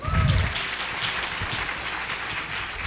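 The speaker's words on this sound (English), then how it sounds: "A round of applause for Anandi and Purnima." Audience applause at a teachers' gathering, a dense steady patter of clapping that holds for about three seconds, loud at first and then even, with no talk over it.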